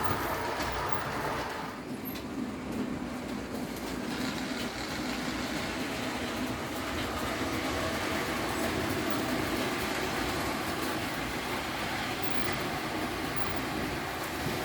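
A Märklin H0 model freight train, a mixed goods consist, runs steadily across a large modern layout, giving a continuous rolling rumble with a constant hiss from start to finish and no break.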